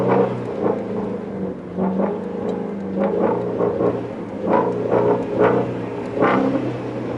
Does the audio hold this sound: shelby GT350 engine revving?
yes